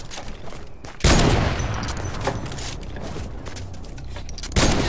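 Video game gunfire lands a headshot: loud, close bursts of shots with a sharp blast near the start and another near the end, over a steady rushing noise.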